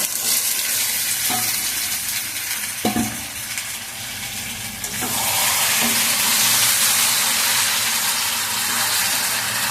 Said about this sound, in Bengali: এই যে বিরিয়ানির মাংস আর এমনি কষা খাওয়ার মাংস আমার একসঙ্গে দিয়ে আমি কষিয়ে নিচ্ছি